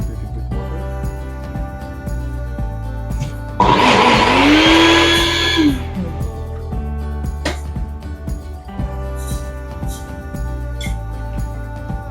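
A kitchen blender grinds green chili, fresh mint and coriander into a paste in one loud whirring burst of about two seconds, rising in pitch and then cutting off against a steady background hum.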